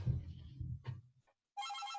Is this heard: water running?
no